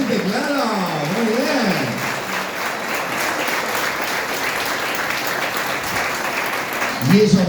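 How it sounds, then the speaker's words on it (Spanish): Loud applause from a gala audience in Merlo, San Luis, honoring drivers, sustained throughout while a voice talks over the start and returns at the end. "Para los señores conductores del bello arte del manejo, fuerte el aplauso."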